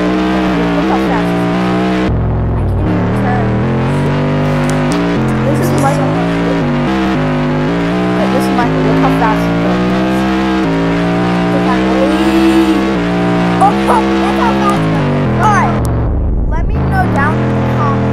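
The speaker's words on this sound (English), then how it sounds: "Look, how fast the car is." Hyper car in the Roblox Dealership Tycoon video game racing at speed, a loud sustained engine whine rising and shifting in pitch, with tire squeal and someone talking over it.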